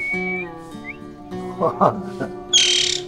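A pet parrot at home calls with whistled notes and short chirps, ending in a loud, harsh squawk, while a person speaks briefly in the middle.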